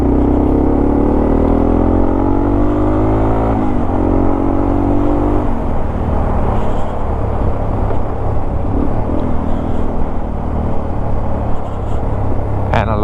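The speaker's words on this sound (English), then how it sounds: "And a lot of traffic." Road traffic rolls past on a busy route near Colorado Springs and Woodland Park, a loud continuous engine rumble with a vehicle accelerating through its gears early on before settling into steady whooshing passes.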